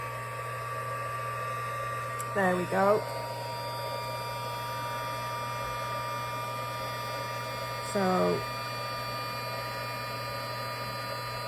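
A heat tool running steadily to melt heat embossing powder on a bookfold wedding card gives a constant whirring hum throughout, with a voice speaking briefly twice over it.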